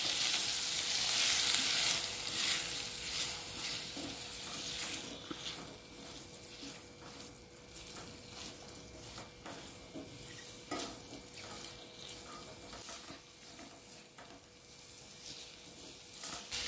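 Chili powder and salt sizzle in hot oil with raw mango pieces for a sweet-sour methamba, a steady frying crackle with occasional stirring scrapes and clinks, loud at first and then settling to a softer sizzle.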